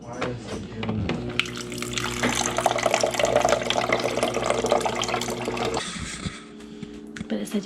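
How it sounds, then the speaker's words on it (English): Water pours from the dispenser of a new refrigerator being flushed, a steady hissing stream that starts after a moment, runs for about five seconds and then eases off, with low voices in the background. "Until water flowed."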